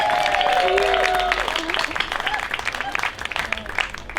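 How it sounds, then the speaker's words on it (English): Audience clapping at an outdoor festival stage in Oregon swells as a voice fades, then continues as dense, steady applause from a crowd. "Round of applause for these colorful beauties."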